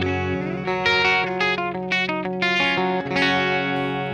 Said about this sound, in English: So this is the clean sound of my orange.